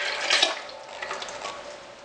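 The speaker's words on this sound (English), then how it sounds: "Now I'm going to add the ground up hemp seed and water" Water and ground hemp seed pour into a jug, making a soft splashing gush that peaks early then thins into a quieter trickle and scattered drips, faint and close with no talking.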